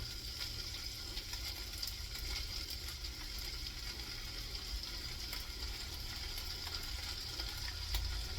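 Fried rice made with fresh rice frying in a pan, a faint, constant sizzle with a few light scraping clicks, no voices.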